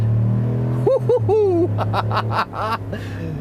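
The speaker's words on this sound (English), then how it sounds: "That's basically what this engine screams. You gotta have a V8." A 2020 GMC Sierra AT4 pickup's big V8 engine rumbles steadily, then rises into a series of loud revving surges with high whining tones as the truck accelerates hard nearby.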